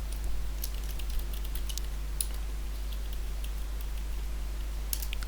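Keys on a computer keyboard are tapped in scattered soft clicks, faint and close, over a steady low electrical hum with no talking.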